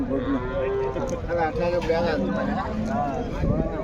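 Bullocks low in long, overlapping moos close by at the Punganur cattle market, with a busy crowd murmuring and voices talking in the background.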